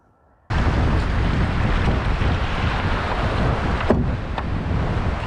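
Strong 30 mph wind roars across the microphone while kayaking on Lake Washington, a loud continuous buffeting rush with water and wave noise underneath, starting abruptly after a brief quiet moment and holding steady throughout.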